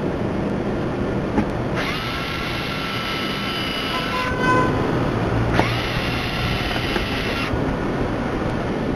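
A power drill fitted with a 109 diameter bit pre-drills starter holes for fasteners through a template while installing an access panel hatch. It gives two sustained, whining bursts of a few seconds each, close and fairly loud, with a short pause between.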